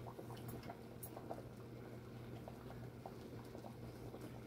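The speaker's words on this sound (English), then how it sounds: "So I just lower the heat so it just simmer." A pot of Jamaican ital vegetable soup simmers on low heat, with faint, steady bubbling and soft liquid pops under a low background hum.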